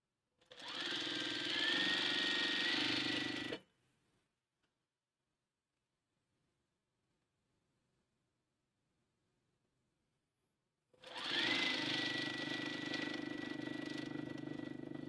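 Sewing machine stitching a quilt seam in a jelly roll race, with two bursts of steady buzzing motor and needle, about three seconds each, separated by a long near-silent gap, close and clear.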